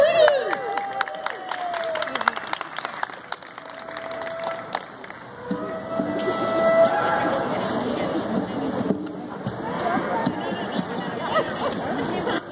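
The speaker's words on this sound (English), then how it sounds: "Please give him a round of applause." A rally crowd applauds and cheers for a Navy SEAL veteran speaker, a broad wash of clapping and voices that rises and lingers, with an amplified voice heard at the start.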